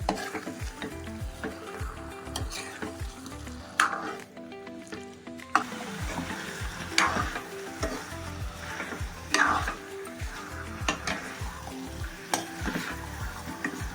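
Stirring chicken curry in a pan: a steady run of spoon scrapes and soft clinks over a continuous sizzle, close by and moderately loud, with no voices.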